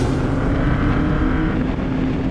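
A Formula Super Vee race car engine running, a loud, close, steady droning roar with a constant low hum, sustained throughout without voices.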